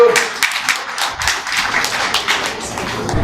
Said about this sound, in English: The clap should be louder.